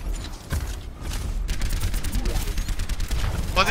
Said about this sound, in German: Da oben ist nochmal einer, der schießt.